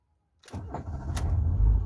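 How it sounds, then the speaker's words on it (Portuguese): A Renault Logan 1.6 car engine cranks briefly after a moment of silence, then catches and settles into a steady, fairly loud idle close by. "Nós vamos dar partida no carro."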